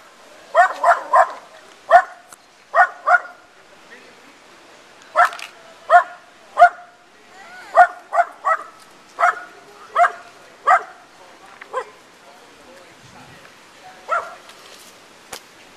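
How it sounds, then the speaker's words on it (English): A dog barks repeatedly inside a parked car in short bursts and yips, spaced irregularly with pauses, sounding enclosed and muffled, in Ridgewood, New York City. "someone left their dog in the car"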